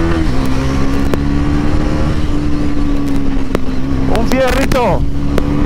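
A Bajaj Pulsar NS 400Z motorcycle engine drones steadily nearby with a strong low harmonic hum, rising in a brief rev near the end, while someone talks over it.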